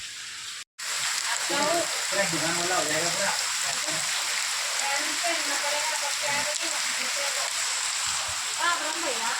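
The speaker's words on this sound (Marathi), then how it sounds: "इतका जोरदार पाऊस सुरू आहे" Heavy rain pours down steadily in a dense, hissing wash, with a person talking intermittently over the downpour.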